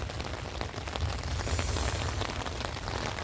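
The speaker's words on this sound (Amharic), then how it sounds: "ዛሬ እዚህ ጋር እኛ ጋር ዝናብ እንደዚህ ይመስላል እንደምታዩት" Heavy rain falls outdoors in a dense, steady roar of drops pattering on surfaces, loud and continuous throughout with no pauses.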